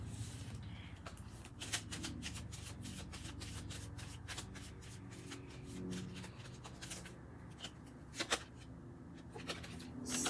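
Tarot cards are shuffled by hand close by, giving repeated soft riffling and sliding bursts with small taps in between, quiet and unbroken by speech.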